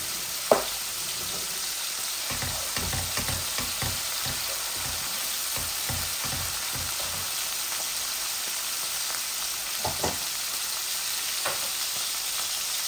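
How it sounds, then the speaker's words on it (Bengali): Crushed garlic sizzling in hot oil in a frying pan, a steady crackling hiss with a sharp clink near the start and scattered spoon scrapes and taps throughout, close and continuous with no talking. "অল্প একটু ক্রাশ গার্লিক দিচ্ছি।"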